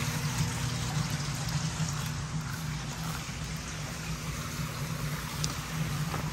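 Steady water trickling close by a garden filter house, a constant soft wash of flowing water with no voices.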